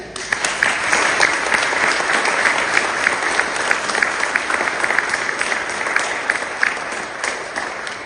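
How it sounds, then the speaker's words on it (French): A church congregation at an Easter Sunday Protestant service in Mertzwiller applauds its new parish council, with steady, full clapping that fills the room for about eight seconds. "Nous pouvons applaudir notre nouveau conseil"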